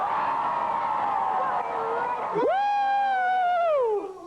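A talk show studio audience: a roaring crowd with whoops and cheers, then one loud sustained scream that rises and slowly falls before it cuts off.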